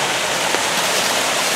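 A forest waterfall among mountain laurel gives off a loud, continuous hiss of falling water, close by and steady, with no voices.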